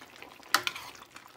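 Igado, Ilocano pork liver stew with green peas, stirred in a pan, one sharp spoon scrape followed by a few softer clinks over faint cooking sounds.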